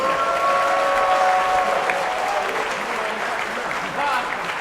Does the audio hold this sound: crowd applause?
yes